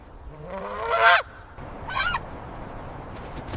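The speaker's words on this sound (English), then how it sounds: "the whole colony erupts at once. Dozens of geese hissing, wings beating, diving at it from every side in a single furious wave." Geese in a nesting colony on an Arctic island slope, one loud close honk followed by a second quieter honk, then faint background ambience.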